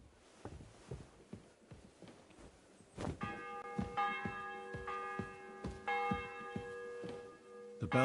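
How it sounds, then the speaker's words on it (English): A church bell in Kingdom Come 2 rings out in repeated, ringing strokes that begin a few seconds in and sustain over a background of soft footsteps, tolling steadily and fairly close. "The bell's ringing for Hans the 5th time."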